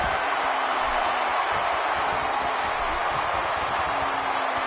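Arena crowd noise from the WWE 2K16 wrestling video game during a Hell in a Cell match, a steady, dense roar of cheering that fills the whole stretch without pause or spoken voices.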